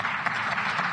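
Brief, dense audience applause during a political speech, a steady wash of many hands clapping together for about a second.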